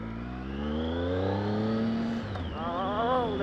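A Triumph Speed Triple R motorcycle engine is heard on the move. Its note rises and falls through the gears with a strong, loud whine, and wind rushes past close to the mic. No one talks.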